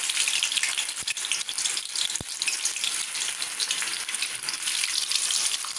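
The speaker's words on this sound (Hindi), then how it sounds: "अब हमने तेल गरम कर लिया है अपना, और हम इसमें तेल डाल के इनको फ्राई कर लेते हैं।" Vegetable balls deep-frying in hot oil over medium heat give a dense, even crackle and bubbling hiss close by, broken by a couple of brief knocks, with no one talking.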